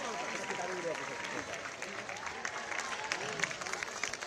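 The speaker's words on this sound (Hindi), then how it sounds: "एक बार फिर से जोरदार तालियों से उनका स्वागत कीजिए।" Applause from the audience welcoming the chief minister at the opening of the Gomti book festival, a steady crowd of clapping hands at moderate distance, sustained for the whole stretch, with voices mixed in.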